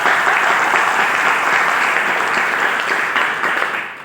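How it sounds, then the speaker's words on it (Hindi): An audience claps in a loud, dense burst of applause that holds steady and then begins to thin out at the end. "मैं चाहूँगा उनके लिए जोरदार तालियां।"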